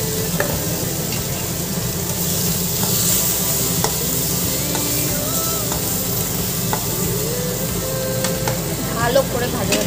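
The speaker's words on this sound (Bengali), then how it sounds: "ভালো করে ভাজা ভাজা করে নেব" Marinated pulao rice sizzles steadily in a pan while being stirred, with a constant loud frying hiss and occasional scraping and clicking of the spoon throughout.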